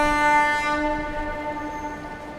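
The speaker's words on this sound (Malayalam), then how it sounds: "ട്രെയിൻ അവിടെ പതിയെ നിൽക്കുന്നു." A train slowing to a stop sounds a sustained horn that rings out loudly at first and then thins and fades over a low rumble, with no voices.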